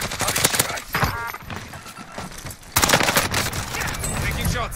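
Rapid bursts of gunfire ring out in Call of Duty Warzone on Rebirth Island, loud clustered volleys with short gaps between them, with players talking over the shooting.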